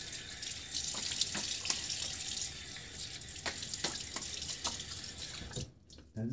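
Running tap water rinses a safety razor, a Gillette RFB 77, during a wet shave, with a steady close splash and a few clicks of the razor against the sink before the flow cuts off near the end.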